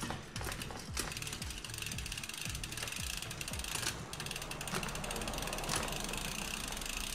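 A bicycle gear shifter on a new 2022 Norco Fluid FS1 mountain bike clicks through several quick ratcheting shifts, sounding close and crisp over continuous mechanical whirring from the drivetrain.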